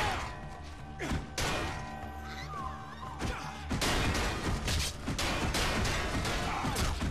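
Sword strikes landing on enemies in the action game Rise of the Argonauts, a string of heavy thuds and crashing impacts over a busy, dense game soundtrack, with the hits growing louder and more packed in the second half.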